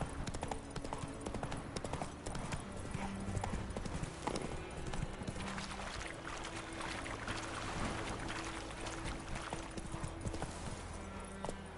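Horse hooves clip-clopping at a steady gallop in The Witcher 3: Wild Hunt, a continuous quiet rhythmic drumming over faint game ambience.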